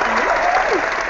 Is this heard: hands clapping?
yes